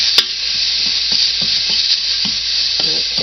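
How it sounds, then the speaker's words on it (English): Green and colored bell peppers with onion sizzle in a pan with a steady close hiss while a utensil scrapes and clicks through them in a rhythmic stir. "I'm mixing that up with the green peppers and colored peppers and onion"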